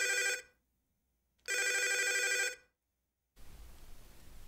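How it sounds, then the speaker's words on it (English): An old-style telephone bell rings twice as a sound effect, two loud, close bursts of about a second each separated by silence, followed by a faint hiss as the line seems to pick up. "You pick up the phone as it's still ringing."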